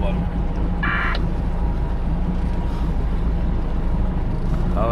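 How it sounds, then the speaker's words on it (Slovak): A Bonaka pusher boat overtakes on the Danube, its steady low engine drone and water rush continuous and fairly loud with wind buffeting the microphone, and people talk over it. "aktuálne nás predbieha tlačný čln Bonaka"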